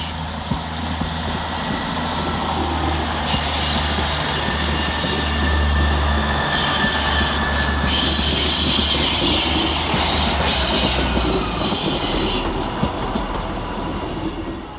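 A train rumbles steadily into a platform at Manchester Piccadilly station, with low engine drone, rising wheel and brake squeals, and ambient station noise throughout.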